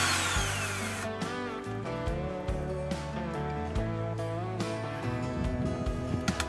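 An HDT CDD 405 cordless drill runs continuously at variable speed, a steady close motor whine with shifting pitch throughout, while music plays underneath.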